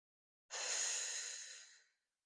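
A single long, close exhale during a Pilates stretch, a soft breathy rush that starts abruptly and fades out over about a second and a half, with no other sound.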